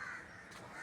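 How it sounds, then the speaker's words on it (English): Crows cawing among a large flock of birds gathered in an outdoor spot, a steady wash of harsh calls at moderate distance with no talk. "That you see this a lot of beautiful birds sitting over there."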